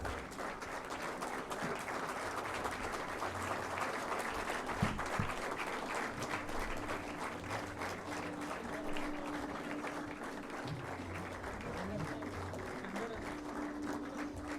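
Audience applause fills a hall during a felicitation ceremony at an Engineer's Day 2018 event, with a dense, steady roar of clapping hands held at an even level for the whole stretch and no speech over it.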